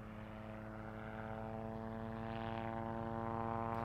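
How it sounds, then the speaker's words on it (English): A helicopter flies overhead in the video game Project Zomboid, making a steady, droning, layered engine hum that holds constant and swells slightly toward the end, with no speech over it. "can the helicopter stop flying over? It's really freaking me out."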